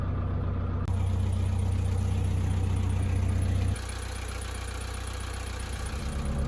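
A vehicle engine idles steadily after running for hours, a loud close drone with a low throbbing hum that shifts pitch partway through, with no talk.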